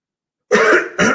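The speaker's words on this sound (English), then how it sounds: "Let me just clear my throat" Two quick, loud throat clears close up, a rough rasp followed by a shorter second burst after a moment of silence.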